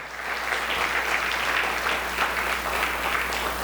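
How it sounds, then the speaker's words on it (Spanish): A church congregation applauds in steady, dense clapping at a Sunday morning service, holding an even level for several seconds with no voices over it. "Dele un aplauso a la palabra del Señor esta mañana."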